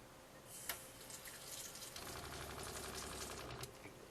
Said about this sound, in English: turn that on. Water flowing, and you can kind of hear it.